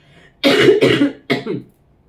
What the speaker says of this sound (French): Ça faisait longtemps aussi que je n'avais pas toussé.